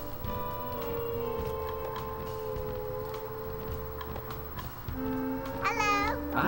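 A cartoon kitten meows near the end of a Blue's Clues: Blue's Big Musical PlayStation game scene, rising over sustained musical tones and background game music.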